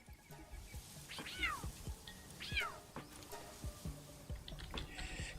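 A Cargo Cat creature in the Palworld video game gives two clear, rising-and-falling meows a second or so apart, over soft background clicks and game ambience.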